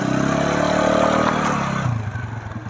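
TVS Apache 180 motorcycle climbing uphill with a chain set noise problem: a loud, close engine drone with rattly clatter that drops off abruptly near the end.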